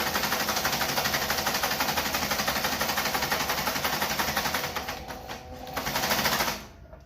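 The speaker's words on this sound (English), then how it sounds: "you put your material under there, make sure the thread is in the back, not in the front, and you start out slow." A Consew CP206R industrial sewing machine stitches material in a fast, steady mechanical chatter, running continuously and close before slowing briefly, surging again, then stopping near the end.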